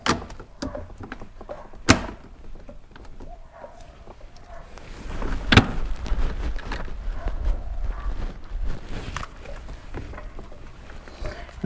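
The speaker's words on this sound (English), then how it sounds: "But yeah, we put our door back on." A car door panel is refitted on a Mitsubishi Lancer Evolution X MR, with two sharp knocks or clip snaps standing out among quieter handling and rustling noises, and no talking.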